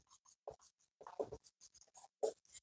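Chalk or marker writing on a board while numbers are set down, a string of short scratchy strokes in irregular bursts with brief pauses between them, fairly close and clear.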